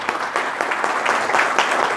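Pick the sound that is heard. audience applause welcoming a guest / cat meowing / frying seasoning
audience applause welcoming a guest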